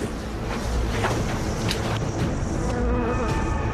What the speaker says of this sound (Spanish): asustó a un enorme panal de abejas asesinas